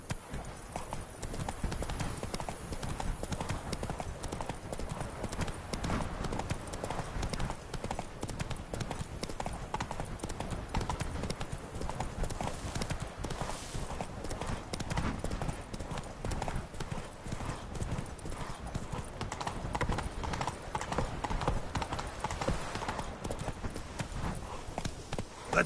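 Hoofbeats from Roach, the horse in The Witcher 3, pound in a fast, unbroken galloping rhythm throughout, close and loud, with faint game ambience and scattered voices beneath.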